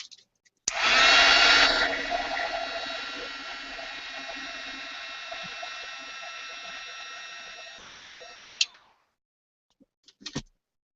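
Hair dryer blowing on an art journal page: a steady close whoosh switches on abruptly, runs for about eight seconds with a slight drop in intensity, then shuts off, followed by a few small clicks.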